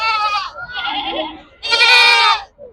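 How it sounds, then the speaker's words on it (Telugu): Three loud, close bleats from male goats at a livestock market in Gudur, the last one longest and strongest. "ఇక్కడ ఒక పెద్ద మేక పోతులు"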